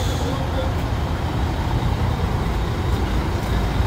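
Heavy diesel rumble from a Jetbus tour coach idling in a busy parking lot in Malioboro, a steady low engine drone with traffic noise around it.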